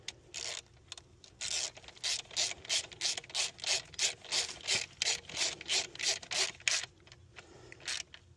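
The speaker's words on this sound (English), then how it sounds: "Use a 10mm deep socket, ratchet." A ratchet with a 10mm deep socket tightens a bolt during throttle body replacement on a 2017 Range Rover Sport 3.0L diesel: a close, steady run of rapid clicking strokes repeated about twenty times, alone.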